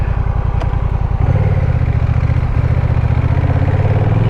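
A Honda Rebel with a DCT gearbox being ridden, its engine giving a loud, close, steady throbbing drone with a gear-shift change in pitch early on and continuous pulsing throughout.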